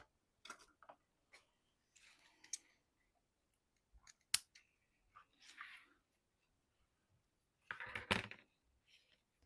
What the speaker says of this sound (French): je vais prendre mes ciseaux à ruban